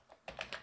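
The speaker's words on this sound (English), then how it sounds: "You just type in who" Computer keyboard typing: a few quick, soft key clicks close by, three or four presses in a short uneven run.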